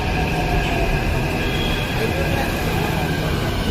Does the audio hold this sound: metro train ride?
yes